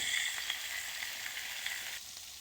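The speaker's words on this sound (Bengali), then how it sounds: "একটু নুন দিয়ে সবজিটাকে ভালো করে ভেজে নেব।" Salted vegetables frying in hot oil in a pan, a steady bright sizzle holding level throughout with faint stirring ticks, close and continuous, no voices.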